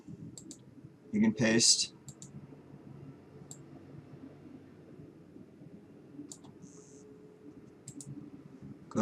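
A computer mouse gives a handful of light, close clicks spread through a copy-and-paste task, with one quick burst near the start and single clicks later. A person talks quietly throughout.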